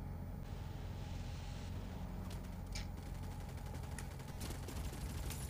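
Gunfire from the battle royale video game Farlight 84 comes as a few sharp shots in quick succession over a busy, rumbling game soundscape, fairly quiet overall and with no talk.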